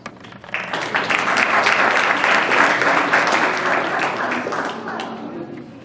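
A big round of applause for students at the 2015 Babul Ilm scholarship ceremony, loud, dense clapping from an audience that swells quickly and holds steady before slowly easing.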